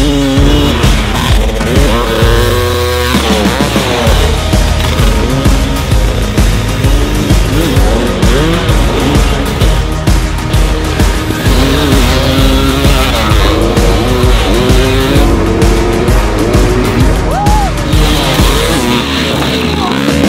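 A 40-year-old vintage dirt bike engine screams loudly while being ridden, revving up and down continuously with shifting pitch, close and dominant throughout.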